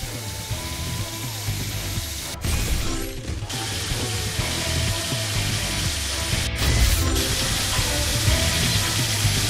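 A drill running in the Paw Patrol Adventure City Calls game gives a continuous mechanical ratcheting whir with brief breaks, steady and fairly close.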